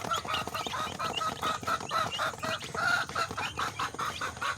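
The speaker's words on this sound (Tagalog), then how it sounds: "Ayan po ang ating mga sisiw." A flock of chickens and young chicks clucks and peeps without pause, a busy, close chatter of overlapping calls with no talking.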